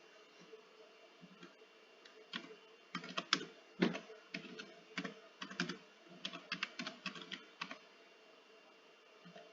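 Fast typing on a computer keyboard while setting up Euro Truck Simulator 2 DLC, with bursts of crisp key clicks in an irregular rhythm, close and fairly quiet, with no talk over it.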